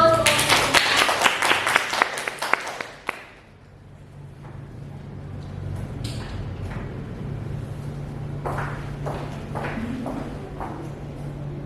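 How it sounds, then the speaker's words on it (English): An audience claps briskly and densely for about three seconds, then stops abruptly. Quiet room hum and a few scattered knocks and shuffles follow. "Give a applause."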